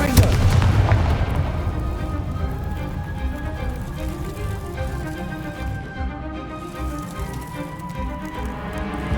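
A Confringo blasting spell explodes in Hogwarts Legacy, a loud booming burst at the start that rolls into a sustained rumbling, crackling blast with game music and ambience underneath, fading slowly over several seconds.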